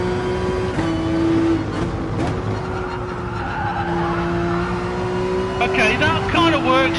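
Race car engine in GT Sport at the Spa circuit, droning steadily as the driver drops two gears, with brief revving blips and tire squeal near the end and a voice talking over it.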